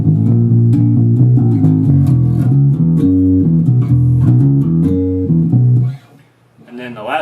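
A bass guitar plays the walking line to the worship song Our God Reigns Forever, moving steadily through low notes in a clear rhythmic pattern, loud and alone, before fading out near the end.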